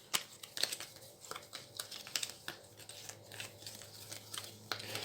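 Playing cards being mixed by hand during a card game produce crisp, irregular clicks and light flicks, some louder snaps standing out against a quiet background.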